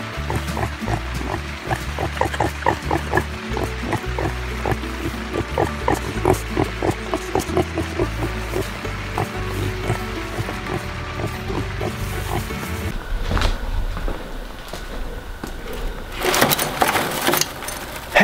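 Pigs on a farm oinking and grunting close by in a quick series of short snorts, followed by a calmer stretch with rustling and a few louder bursts near the end.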